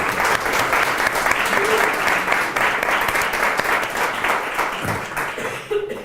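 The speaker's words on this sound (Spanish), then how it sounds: "tenemos la obligación de recibirlo con un fuerte aplauso" Strong, continuous applause from an audience at a lecture on the Picatrix grimoire welcoming a presenter, steady dense clapping close and loud for about six seconds, tapering near the end.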